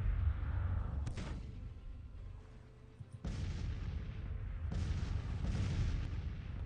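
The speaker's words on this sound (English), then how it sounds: "Good bombardment going on here." Artillery bombardment during a naval battle in Grand Tactician: The Civil War, with several deep booming shots at irregular intervals over a low rumbling background, moderately loud.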